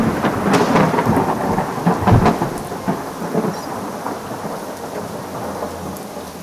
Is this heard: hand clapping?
no